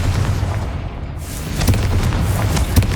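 Bombarda and Confringo explosion spells in the video game Hogwarts Legacy go off in quick succession, with loud, rumbling booms and sharp bursts layered over a constant low roar.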